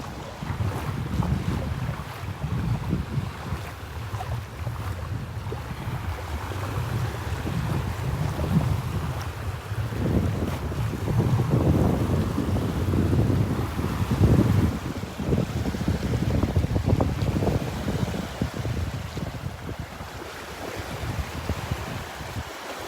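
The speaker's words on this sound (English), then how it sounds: "Hear that wind blowing." Strong wind blows across a beach by a shallow sandbar, roaring steadily into the microphone with gusts that swell and fade, alongside faint surf, and no talking.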